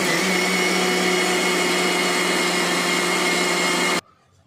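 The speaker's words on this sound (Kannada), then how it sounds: "ಮತ್ತೆ ಹಾಕ್ಕೊಳ್ಳಿ ಮಿಕ್ಸಿಗೆ," A mixer grinder whirs loudly and steadily as it blends soaked poha and curd into a smooth dosa batter, then cuts off sharply near the end, leaving near silence.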